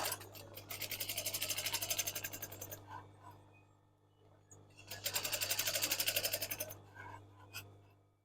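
A sewing machine stitches a fabric lining into a crochet bag, running in two sustained, close rattling bursts with a quieter pause between, alongside some talking.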